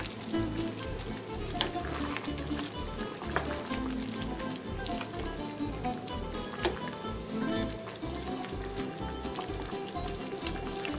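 Pompano kakavia soup with onions cooking down in a pot. A loud, steady sizzle and bubbling crackle runs unbroken throughout, close up.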